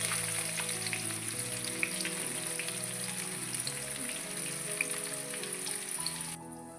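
Onion and curry leaves frying in hot oil for a village-style tempering, with a dense, continuous crackling sizzle up close that stops abruptly at the end, no talking.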